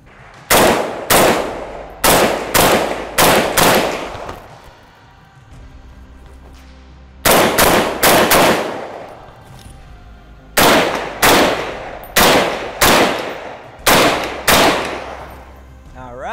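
A Ruger SFAR rifle fitted with a muzzle brake fires loud, close shots in quick strings of three to five, separated by short pauses, with a ringing decay after each burst.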